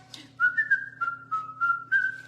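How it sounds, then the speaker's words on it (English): A person whistles a short tune close by, several clear sustained notes in a quick melodic phrase lasting about two seconds, with a faint low hum underneath. "I know that's whistling"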